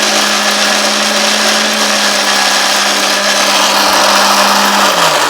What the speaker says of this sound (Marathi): परत एकदा मिक्सर लावलेला आहे